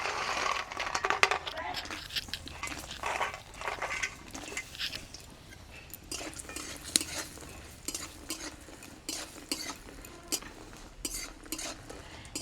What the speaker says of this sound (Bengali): ওই মাছের তেলে এই বড়িগুলো ভেজে নেব